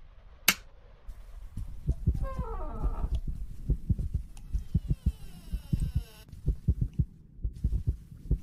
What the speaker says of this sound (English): bakit nag-heartbeat yung character natin?